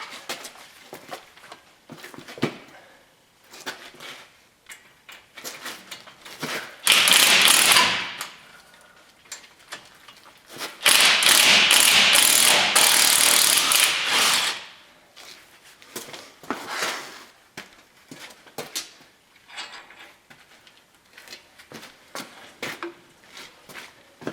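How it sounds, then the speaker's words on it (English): An impact wrench removes bolts from a Chevrolet Tahoe front wheel during brake and wheel bearing work, firing in two loud sustained bursts between quieter clinks and tool handling in a garage. "The other one I can get to with the impact again."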